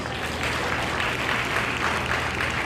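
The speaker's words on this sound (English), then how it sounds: "a round of applause to our panelists, please" An audience claps steadily for conference panelists, a close, even wash of applause lasting the whole moment with no speech over it.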